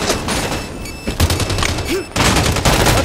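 Halo 5 Strongholds gameplay fills the air with dense, rapid gunfire. Bursts overlap, loud and close, and a brief pause falls midway before the shooting resumes.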